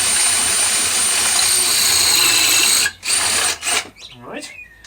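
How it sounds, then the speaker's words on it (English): A power drill with a metal bit whines steadily at high speed, then stops and restarts in short bursts as it bites through the metal reinforcement of a uPVC door near the microphone. "drill through with your metal bit"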